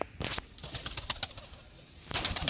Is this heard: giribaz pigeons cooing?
yes